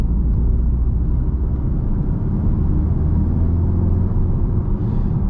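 A 2021 Audi TTS engine pulls hard under full torque at roughly 2,500 RPM, a steady, loud low rumble heard from inside the cabin that holds for several seconds with no talk.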